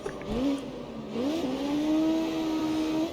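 A car in the CarX Street racing game accelerates hard, its engine tone climbing steadily through a gear change and holding a rising, loud rev close up, with a voice faintly present in the background.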